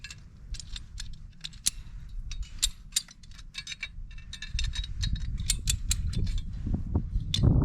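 Ratchet cranking to tighten fence wire outdoors: a long run of irregular sharp clicks and ratcheting snaps over a low rumbling background that grows louder toward the end, no speech.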